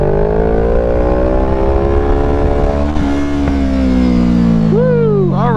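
A motorcycle engine revving hard during a wheelie, close and loud, holding a steady high drone that slowly shifts in pitch, then dips and climbs sharply again near the end.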